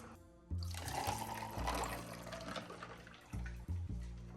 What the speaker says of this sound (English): I'm filling this cup up and then I'm just gonna pour it in the shakers